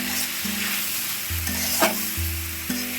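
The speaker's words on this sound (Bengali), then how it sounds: "এরকম ভালো করে একটু নাড়াচাড়া করে মিশিয়ে কষিয়ে নেব বা হালকা ভেজে নেব" Spices stir and fry lightly in a pan for a tangra fish curry with greens, a steady sizzle under occasional scrapes of a spatula, close and continuous.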